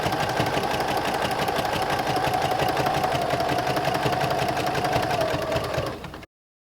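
A home sewing machine stitches through a basted jelly roll quilt, running as a continuous, fast mechanical whir with a steady rapid clatter before stopping abruptly near the end.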